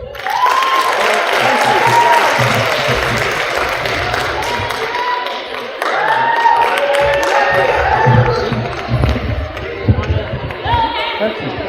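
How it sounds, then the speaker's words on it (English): A school crowd at a sophomore story slam claps and cheers for the next storyteller. Bursts of applause rise and fall, with whoops and shouts above the clapping. "give a round of applause for Andrew"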